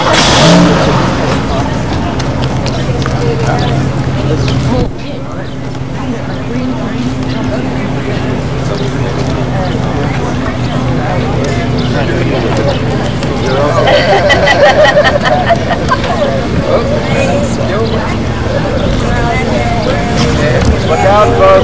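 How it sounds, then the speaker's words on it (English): Cars pass by outdoors near a post office, a steady engine rumble and road noise rising and swelling through the stretch, with people chatting in the background. "Look out, folks. We got some cars coming"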